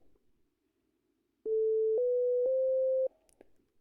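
A G-Stomper synthesizer plays a clean sine-wave tone, a loud steady pitch that steps up slightly over about a second and a half, then cuts off, with quiet room sound on either side.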